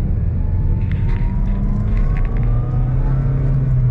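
A Subaru Vivio RX-R hot hatch accelerates hard with its engine rumbling, a thin rising whine riding over the low drone as revs climb, heard loud and close from inside the car without talk.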